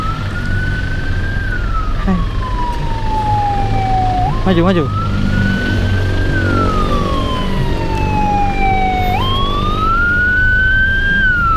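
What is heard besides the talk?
siren in heavy traffic jam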